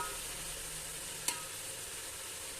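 Carrot halwa (gajar ka halwa) being gently stirred with a spoon in a pan, a soft continuous sizzle with one brief clink of the spoon midway, close and quiet, no talking.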